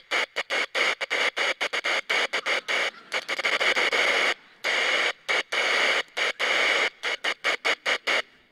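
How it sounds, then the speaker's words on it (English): A wind-up pocket radio beeps out a Morse code signal, a loud, close steady tone chopped into rapid on-off pulses of short and longer lengths, with a few slightly longer gaps. "It's a wind-up radio. And you have a little Morse code."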